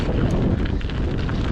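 Strong wind gusting outdoors at a nature preserve, a loud continuous rumbling roar buffeting the microphone throughout.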